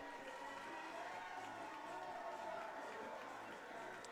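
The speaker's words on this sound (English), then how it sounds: "a roar of applause from the Northern Cass faithful" Applause and cheering from Northern Cass fans at a North Dakota State B baseball tournament semifinal, a steady crowd roar filling the stands, with an announcer talking over it.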